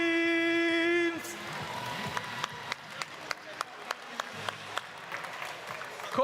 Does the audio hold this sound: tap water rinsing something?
no